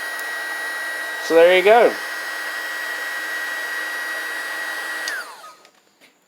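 A heat gun blows steadily on a heat shrink wire connector joining two wires, a loud constant airy whir that runs for several seconds before switching off and winding down, with a short spoken phrase over it near the start.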